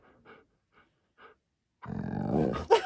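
A husky on a bed in a bedroom gives a few short, quiet grumbles, then breaks into a sustained, loud, close growl that rises to a rough snarl at the end.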